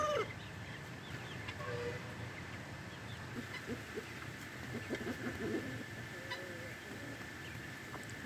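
A hen recovering from illness clucks intermittently in a farmyard, with soft, fairly faint clucks scattered over steady low background noise and no talk.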